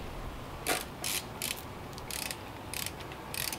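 A ratchet clicks in short, quiet bursts while running down the oil pan bolts of an N54 engine by hand, giving six or seven brief buzzing spurts at an uneven pace.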